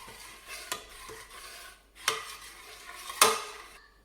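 A spoon scrapes and stirs oats with cold milk or water around a pot in a few sweeping strokes, each ending with a sharper clink against the side.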